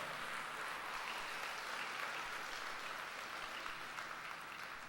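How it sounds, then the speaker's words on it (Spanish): A church congregation claps together in a sustained, dense burst of applause during a Sunday morning sermon, steady and full throughout with no talking over it. "Dele un fuerte aplauso al Señor."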